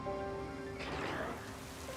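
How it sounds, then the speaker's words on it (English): Rain falls in a Pokémon video game, a soft, steady hiss of in-game rainfall that swells briefly over a sustained musical tone. "Rain!"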